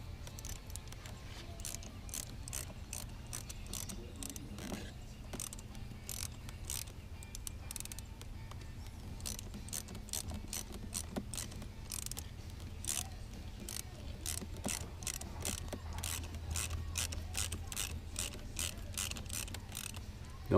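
A socket wrench ratchets on a bolt of a bass boat's stuck power trim, fitted on a rubber-mounted bushing, giving rapid close clicking bursts in irregular runs over a steady low hum, with no talk.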